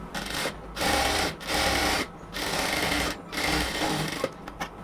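A sewing machine stitches a cotton kameez sleeve seam up to the armhole, running in several loud, steady bursts separated by short pauses.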